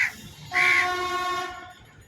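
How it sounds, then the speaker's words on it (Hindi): A train on a nearby roadside railway sounds a loud, sustained horn blast lasting about a second, fading out over low background rumble. "सड़क के किनारे होने से, रेलवे किनारे होने से आवाज़ बहुत ज़्यादा गूंजता है यहाँ पे"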